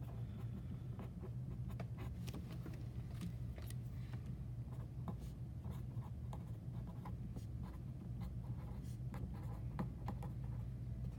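A pen or pencil scratches and taps across paper while a geometry proof is written out by hand, giving soft, uneven strokes over a low room hum, with no speech.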